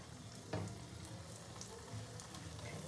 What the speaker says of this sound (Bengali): একদম চপের আকারে পিঠেগুলোকে ভেজে নিতে হবে